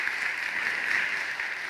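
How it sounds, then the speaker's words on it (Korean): A church congregation applauds in a brief, steady wash of clapping, fairly loud and even throughout, with no voices standing out. "하나님께 영광 박수 올리도록 하겠습니다"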